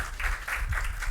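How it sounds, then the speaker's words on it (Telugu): Church congregation at a Sunday service clapping loudly together in rhythmic bursts, a steady near wash of applause with low rumble underneath. "గట్టిగా చప్పట్లు కొడుతూ దేవుని మహింపరుద్దాం ఒకసారి"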